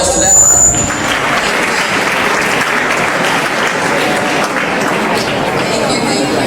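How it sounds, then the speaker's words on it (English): A dense, steady round of applause from an audience at a live innovation competition, honoring the prize winners, sustained and fairly loud throughout, with a brief high ping at the start. "Can we have a round of applause to that?"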